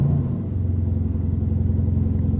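An Aston Martin DB11 engine starts up and settles into a loud, steady low rumble heard close by, with nobody talking over it.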